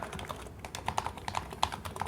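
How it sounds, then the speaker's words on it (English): Soft, muted clicks of a foam-dampened Razer Huntsman V2 mechanical keyboard, typed at an uneven pace close to the microphone. "the foam on the bottom, or just a simple layer of foam, really dampens the keyboard keys"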